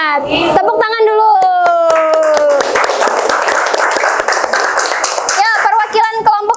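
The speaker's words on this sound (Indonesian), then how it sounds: "Tepuk tangan dulu." A classroom group of students breaks into clapping for the winning group after excited children's voices and cheering, with sharp individual claps scattered through a lively burst of noise close by.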